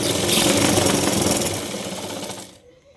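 A sewing machine runs a fast, steady stitch along a blouse hem for over two seconds, loud and close, then stops abruptly.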